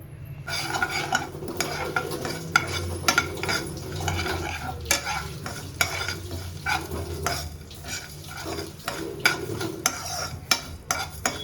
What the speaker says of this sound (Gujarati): 2 ચમચી ધાણા લીધા છે, આખા ધાણા લીધા છે, અને આપણે 2 ચમચી આખું જીરું લેશું અને આપણે રોસ્ટ કરી લેવાનું છે